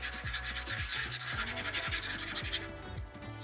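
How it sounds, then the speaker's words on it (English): Brake pad from an e-bike being scuffed with sandpaper, quick rhythmic back-and-forth rubbing strokes close up, steady and fairly quiet, with no talk. "what we're wanting to do is scuff up that surface"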